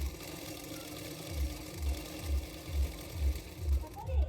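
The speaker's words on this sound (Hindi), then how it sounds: "अभी उसको पीछे की तरफ फोल्ड करके सिलाई कर लूँगी" A sewing machine stitches folded blouse fabric, thumping in a steady rhythm of about two beats per second with a constant whirring hum underneath.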